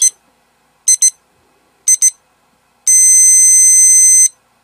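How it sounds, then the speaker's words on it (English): A poker blinds timer counts down: a short beep at the start, then two pairs of quick high electronic beeps about a second apart, followed by one long sustained tone lasting over a second, ending the blinds level. "So we're coming down to about 5 seconds here, so we'll start hearing some beeps."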